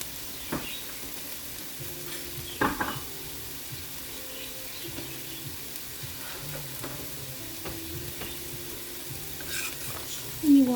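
Garlic browns in a frying pan with a soft, steady sizzle, broken by a few brief clatters and scrapes of stirring and a louder clink near the end.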